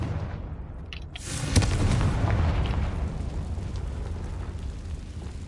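A Confringo fire spell explodes in the video game Hogwarts Legacy as a single booming blast with a rumbling tail that fills the clip, with no voices over it.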